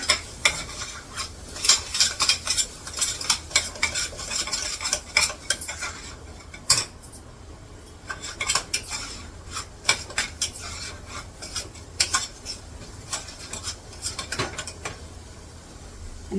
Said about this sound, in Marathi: एक चमचा भरून मीठ घेतले ते थोडस परतून घ्यायचं जरा